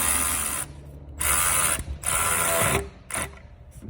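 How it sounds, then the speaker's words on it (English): A hose clamp on a diesel truck's intake tube is tightened with a ratcheting tool, producing loud close bursts of rapid clicking in three main runs separated by short pauses, then a final brief burst. "hit the lock, and tighten our clamp on the intake tube."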